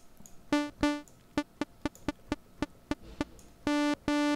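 A gated synthesizer tone from a plug-in is chopped into short bursts, each with a distinct click or pop as it opens and closes: a few longer notes, a run of rapid stabs, then two held notes, with no voice.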